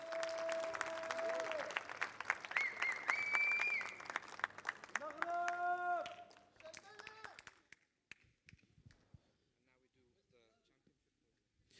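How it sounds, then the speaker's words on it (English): Applause for the OKN senior finalists at a karting race day at Al Forsan, Abu Dhabi: crowd clapping mixed with loudspeaker talk and engine-like tones for the first seven seconds, then fading to sparse, faint claps. "give it up, please, for a huge round of applause for your OKN senior finalists"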